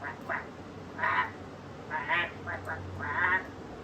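A voice imitates a duck with several nasal quacks in uneven bursts, close to the microphone, over a low steady hum.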